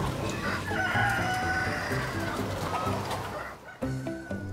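A flock of hungry chickens on a farm clucks and squawks busily together, begging for feed, with a rooster crowing in the din; the noisy chatter is constant and close.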